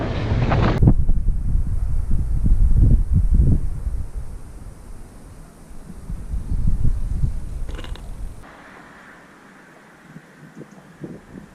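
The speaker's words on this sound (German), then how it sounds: "Der Wind, der hält mich wieder." Strong wind buffets the microphone outdoors during a bicycle trip through a valley, roaring loudly and unevenly for several seconds before easing to a quieter background near the end.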